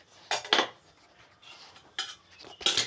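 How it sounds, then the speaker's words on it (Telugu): Chicken is being mixed with spices in a bowl, heard as a few soft, irregular clinks and scrapes of utensil against dish, with quiet gaps between the brief knocks. "చికెన్లోకి బాగా మిక్స్ చేయాలి."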